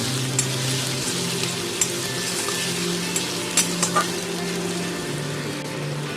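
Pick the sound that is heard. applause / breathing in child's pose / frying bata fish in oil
frying bata fish in oil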